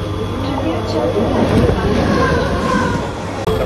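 Steady rumble and rattle inside a nearly empty Mumbai suburban local train near Kalyan, a constant low roar with a brief clatter near the end.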